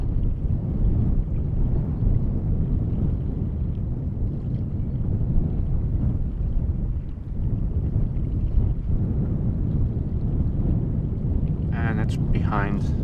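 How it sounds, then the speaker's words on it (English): Steady, loud wind gusting across a microphone at Amsterdam Schiphol Airport during plane spotting beside runway 18R, a constant low roar with brief higher whines near the end; no voices. "It is a bit windy."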